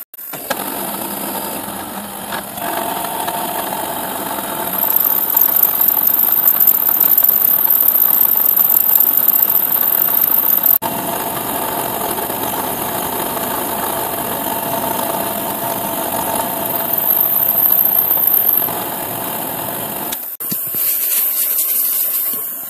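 A machine bit cuts 4.5 mm deep into a mould plate for injection-moulded light switch frames, giving a loud, steady grinding whine that runs on continuously with a brief change in pitch partway through.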